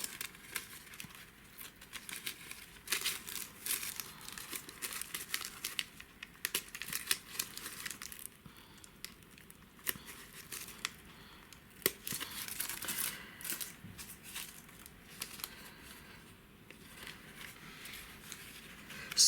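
A sheet of paper is slowly peeled off a gel printing plate, producing soft, faint crackling and tearing sounds with irregular small pops throughout, close and quiet.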